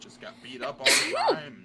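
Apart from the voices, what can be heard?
sneeze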